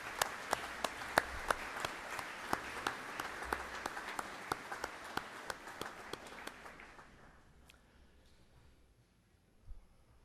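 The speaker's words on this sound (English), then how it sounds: "Let's give a round of applause." Graduation audience at a Northwest Iowa Community College summer commencement applauds honored PTK members, one close pair of hands clapping steadily and loudly above a wash of distant applause that stops abruptly around seven seconds, leaving quiet hall ambience.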